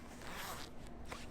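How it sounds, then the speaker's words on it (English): A clothing zipper is pulled up on someone's outfit before a dolphin swim, a short, close, quiet zip with no talk over it. "turn around so I can zip you up"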